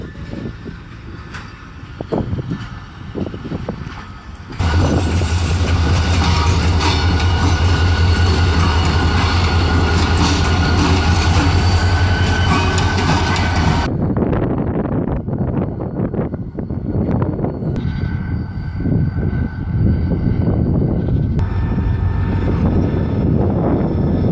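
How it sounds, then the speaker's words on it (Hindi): Karachi Circular Railway train being shunted in reverse near Dabheji, a loud, steady rumbling diesel engine and rolling wagons with heavy wind buffeting the microphone, the noise swelling and easing through the pass. "तो चलें अब ट्रेन की थोड़ी शंटिंग देख लेते हैं।"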